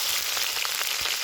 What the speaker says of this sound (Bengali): কড়াইতে তেল দিয়ে দেব। তেলের উপরে শুকনো লঙ্কা আর সর্ষে দেব।